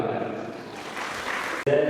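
An audience at a preschool annual concert applauds in a short burst of clapping, with a voice over it, before it cuts off abruptly near the end.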